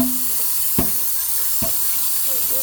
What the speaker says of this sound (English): now you're gonna put some more water in there